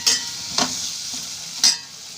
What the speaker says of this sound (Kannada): ಈ ರೀತಿ ಚೆನ್ನಾಗಿ ಎಣ್ಣೆ ಬಿಟ್ಬಿಟ್ಟು ಸ್ವಲ್ಪ ಈ ರೀತಿ ಹುರ್ಕೊಳ್ಳಿ